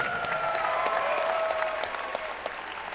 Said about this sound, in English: Let's give these two kickboxers another round of applause.